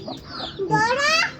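Chickens clucking close by in a backyard poultry area, a short run of bright, harmonic clucks and squawks that rise at the end, with faint household talk underneath.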